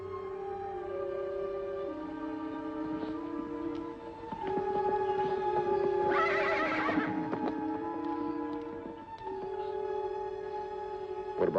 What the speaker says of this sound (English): What about those horses, Ellen?